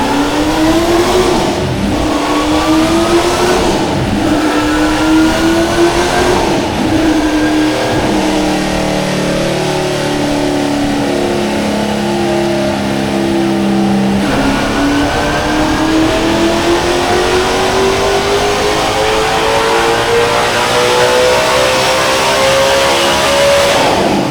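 Race car engine on a dyno pull, revving hard toward 9,100 RPM, loud and close, with long climbing sweeps, a brief dip, and then another rising scream.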